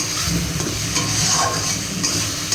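Masala spices with turmeric fried and stirred in a pan for mutton curry, giving a steady close sizzle with scraping spoon strokes throughout, no voices.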